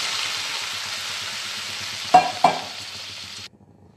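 Frying vegetables for a rui fish curry hiss steadily in a pan, with two sharp splashing bursts as water goes in, before the sound abruptly stops.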